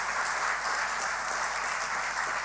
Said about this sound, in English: Please give everyone an appreciative round of applause.